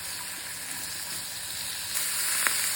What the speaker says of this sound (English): A little stir so they're evenly coated.